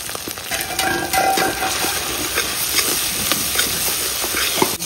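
Spices with turmeric and salt frying in oil while being stirred, a steady loud sizzle and hiss with scraping clicks from the stirring, continuous and close.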